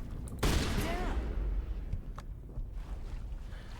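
Gunfire in the Mass Effect video game, a sharp burst of shots near the start that trails off into a noisy, rumbling ambience.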